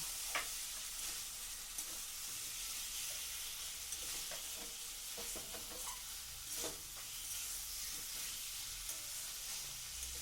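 Potatoes sauté in a covered pan with a continuous hissing sizzle and occasional soft utensil taps and clinks, steady and fairly close, without speech.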